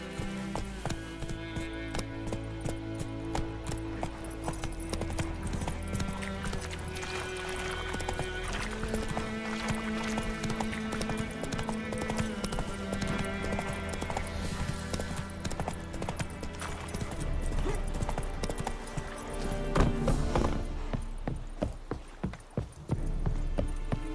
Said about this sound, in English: Giddy up.